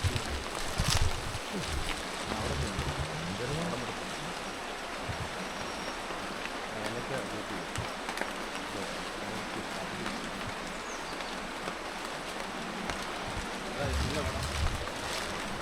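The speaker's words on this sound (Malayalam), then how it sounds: "ഡാം തുറന്നു വിട്ടേക്കുന്നുണ്ട്, ഇത്രയും വെള്ളം വന്നേക്കുന്നത്" Steady broadband rush of fast-flowing river water released from the opened Periyar dam fills the whole stretch, loud and continuous, with faint voices occasionally underneath.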